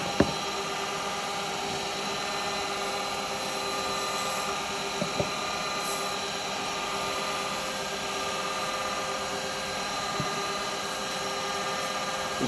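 A steady, continuous whir of a wood lathe spinning a small turned pot with a rough abrasive sanding hiss over it, unbroken for the whole stretch, close and even.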